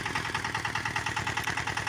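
Small, light tractor engine chugging steadily and close while rolling pumpkins in a field, an even rhythmic mechanical drone with no voices.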